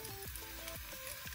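Soft, steady sizzling of chopped onions frying in oil, faint and continuous, with a few light tonal clicks over it.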